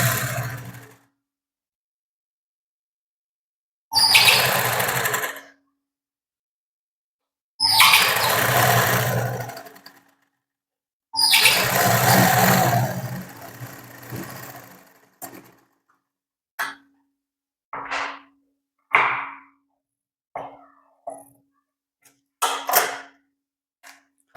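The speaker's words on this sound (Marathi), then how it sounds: "इथे परत एक इकडच्या साईडने शिलाई मारून घ्यायची आहे" A sewing machine stitches the back neck of a blouse in short, loud motor bursts separated by silence. Longer runs at first give way to quick, clipped stitches.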